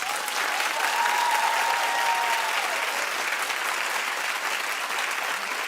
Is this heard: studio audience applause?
yes